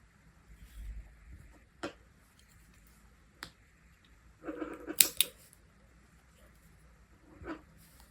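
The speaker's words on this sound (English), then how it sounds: "then cut the yarn" Scissors snip through crochet yarn after a coin-pouch piece is finished; a quick pair of faint crisp cuts sounds near the middle, set among soft handling noises in a quiet room.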